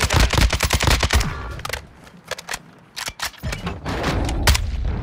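Rapid bursts of gunfire in Warzone 2, a close automatic volley followed by scattered sharper shots and short pauses, loud and punchy with no talk over it.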